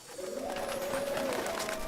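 Doves coo softly in a short burst, a low wavering throaty murmur held steady for under two seconds, fairly quiet and close with no talk over it.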